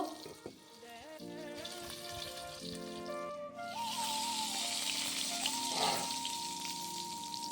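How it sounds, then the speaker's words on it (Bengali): Brinjal slices fry in oil, the sizzle steady and growing louder partway through, with a bright tonal whine and some kitchen clatter running over the frying. "দেখো এক পিসটা খুব সুন্দরভাবে ভাজা হয়ে গেছে"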